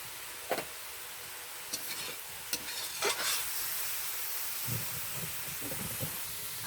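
Spice masala with salt, turmeric and ginger fries quietly in a pan, a soft continuous sizzle broken by occasional scrapes and taps of a stirring spoon.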